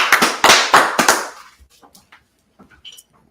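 Several sharp hand claps in a quick rhythm at a street preaching gathering in Washington D.C., loud and close, then fading into quiet scattered small noises.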